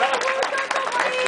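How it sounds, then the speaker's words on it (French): Applause and crowd noise from an evening audience at a gallery opening in a Paris arts space, steady dense clapping filling the whole moment at close range. "derniers applaudissements pour les meilleurs d'entre nous ce soir"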